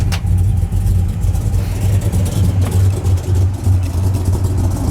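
A 1965 Chevelle Malibu SS's 427 cubic inch engine runs loud and close with a low, steady idle rumble and slight uneven pulsing, no voices.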